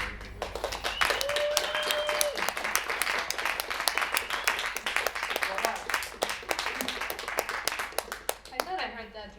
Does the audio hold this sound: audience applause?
yes